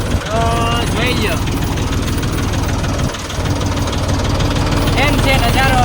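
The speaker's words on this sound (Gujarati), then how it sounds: "આપણે દિલીપભાઈનું ટ્રેક્ટર હાંકવાની ખૂબ મજા આવે." A decorated tractor's engine runs with a loud, steady chugging rhythm close by in a village, briefly dipping midway, while voices sound over the drone.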